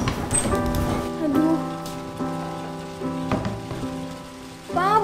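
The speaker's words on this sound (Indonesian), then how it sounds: "Hujan harusnya menjadi berkah." Rain patters steadily on a surface, a faint continuous hiss with scattered drops, largely under sustained background music and brief voices.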